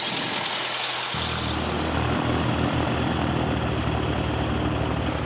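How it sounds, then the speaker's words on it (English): A light propeller airplane's engine drones loudly and steadily while taxiing, its pitch rising slightly after a moment, close and constant with no other sounds. "Now I'm going to get the airplane out of the parking area to the taxi area"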